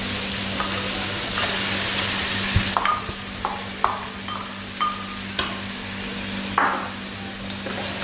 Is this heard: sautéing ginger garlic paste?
yes